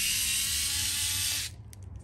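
Vessel USB220 cordless electric screwdriver driving a screw into an aluminum storefront, a close high-pitched motor whir for about a second and a half that stops abruptly, followed by a few faint ratcheting clicks.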